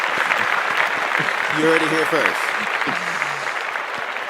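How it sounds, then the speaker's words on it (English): A small audience claps and cheers through a rap interview show, steady applause with someone talking over it. "Let's give an applause for that."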